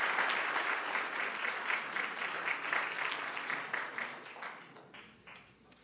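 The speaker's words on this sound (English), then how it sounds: "So big round of applause." Audience applause at a live musical concert, loud, dense clapping sustained for several seconds before tapering off near the end.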